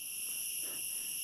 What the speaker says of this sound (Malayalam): ചീവീട് നല്ല കരയുന്നുണ്ട്.